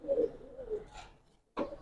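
Racing and fancy pigeons in a loft give a few close, clear coos, pausing in between before another coo rises at the end, with no talk over them.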